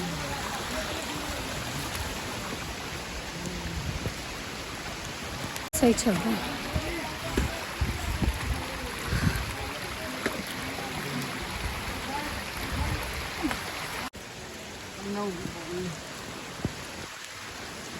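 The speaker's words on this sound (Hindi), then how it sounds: "बारिश तो पूरा हाल कर रखा है कसम से।" Heavy rain falls steadily outdoors in a hilly area, a dense continuous hiss with scattered louder splashes, while a person speaks briefly over it.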